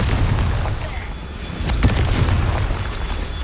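A Confringo fire spell explodes in Hogwarts Legacy, a dull booming burst near the middle amid rumbling game sounds and a spoken incantation.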